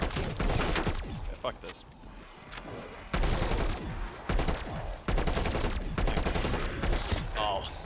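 Rapid, dense gunfire from Call of Duty Cold War Zombies rattles almost continuously in loud bursts with brief gaps, while a player talks over it.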